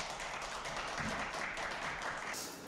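An audience at a lecture on commercial property investment gives a short burst of dense, even applause that fades slightly at the end.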